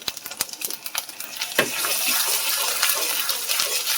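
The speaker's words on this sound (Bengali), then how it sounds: "দিয়ে ভালো করে আমি মশলাটা ভেজে নেব" Ginger, green chilli and cumin paste frying in a pan, a steady broadband sizzle rising after a run of sharp scraping taps, with no voices over it.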